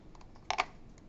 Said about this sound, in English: If I come over here and I type in a number